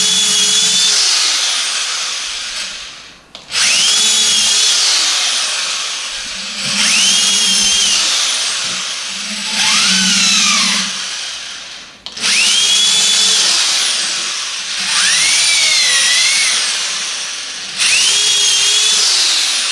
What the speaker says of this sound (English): I'm going to drill these holes about 6 inches apart